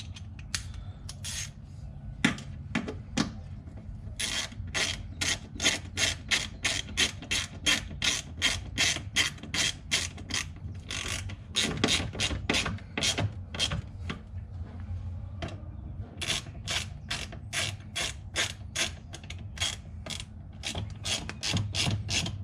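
A hand ratchet tightens bolts on a vehicle shifter cover, giving long runs of crisp, rapid clicks in quick rhythmic bursts, close and fairly quiet, with brief pauses between strokes.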